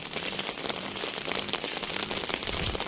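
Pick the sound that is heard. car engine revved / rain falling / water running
rain falling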